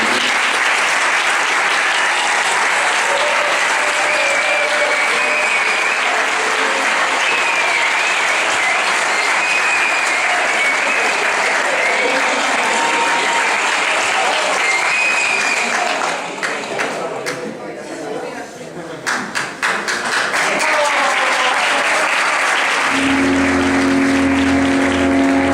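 Audience applause at a vocational-training graduation ceremony in a Valencia school hall, sustained loud clapping from a large crowd that briefly dips and swells before a tone and voice take over near the end.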